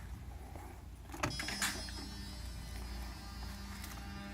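Two electronic throttle units on a Mercedes 600SL, just repaired, start up as the ignition comes on: a brief electric motor whir, then a faint, steady hum and buzz close by.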